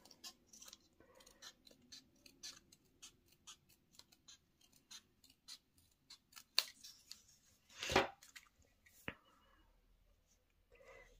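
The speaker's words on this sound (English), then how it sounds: "take my paper snips and do a very skinny section just to cut off that folded part" Paper snips cutting a very skinny strip off folded cardstock for a handmade card, a series of soft crisp snips close up, with a louder rustle and clack partway through.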